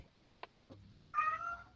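A house cat gives one clear, fairly close meow after a couple of faint taps, in a quiet room with no one talking.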